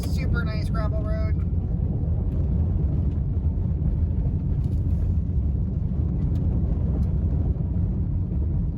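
A car rolls along a gravel road in the Ozarks, with a continuous low rumble and road noise heard from inside the cabin. A brief voice-like sound comes at the start.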